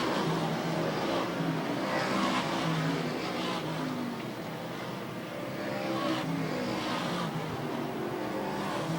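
Stock cars racing at Airborne Speedway in Plattsburgh, NY, a dense continuous engine roar with swells as cars pass, heard from a distance with no talk.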